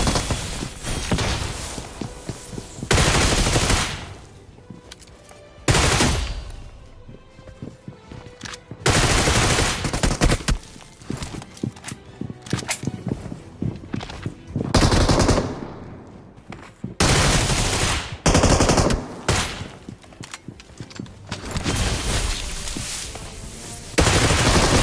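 Bursts of rapid automatic gunfire and single shots crack out from a shooter video game, loud and close, coming in repeated volleys separated by brief quieter gaps.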